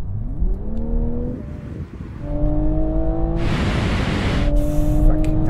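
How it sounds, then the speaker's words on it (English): A BMW M440i and a Toyota Supra accelerate hard from a rolling 50 mph start, engine drone climbing in pitch through gear changes, with a loud burst of wind and exhaust noise close by and no talk. "Now we're going to have a rolling race from 50 miles an hour. 3, 2, 1, go!"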